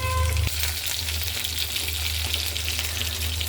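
Cumin, onions and curry leaves frying in hot oil for a curry of drumsticks in milk, a steady close sizzle with a brief louder crackle at the start as they go into the pan.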